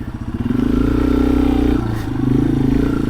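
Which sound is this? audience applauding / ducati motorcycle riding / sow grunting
ducati motorcycle riding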